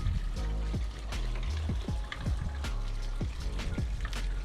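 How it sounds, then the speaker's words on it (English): Water trickles and splashes through a freshly cleared downspout, close by, with irregular dribbling drops and gurgles over a steady flow and no talk. "Got water flowing."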